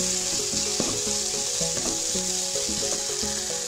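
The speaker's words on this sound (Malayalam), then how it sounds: "ഇതേപോലെ അര ടീസ്പൂണ് കുരുമുളക് പൊടി നന്നായിട്ട് ഇളക്കി കൊടുക്കാം" Pepper powder being stirred into a sizzling mixture in a frying pan while making chicken Maggi cutlets; steady loud frying hiss with repeated scraping stir strokes and a faint tonal hum underneath, no talking.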